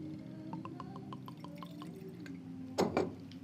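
Red wine from California's 2020 vintage poured into a glass, a soft run of drips and trickles ending in a brief brighter splash, quiet and close.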